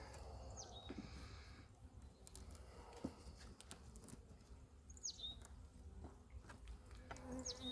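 Honeybees buzz faintly around an open hive while foragers bring in pollen, with soft bursts of wing hum and occasional louder passes close by.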